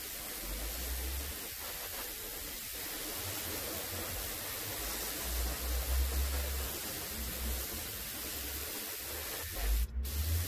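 An aerosol or spray gun applies a white base coat to a wooden fishing lure for an antique bluegill pattern. It gives a steady, broadband hiss for about ten seconds at a constant close level, with one short burst near the end.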